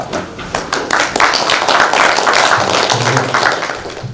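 Steady applause from a lecture audience introducing a professor, dense overlapping claps at moderate loudness, sustained throughout with no talking.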